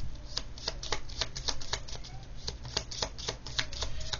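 Tarot cards are shuffled by hand in a quick series of crisp riffling snaps and soft slides, repeating steadily and close up with no talking.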